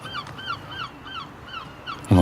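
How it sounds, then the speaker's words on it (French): Seagulls call at dawn in Dieppe, Normandy, with a steady series of harsh, repeated cries over a low background rumble, ending in a sudden loud thump. "On entend des mouettes"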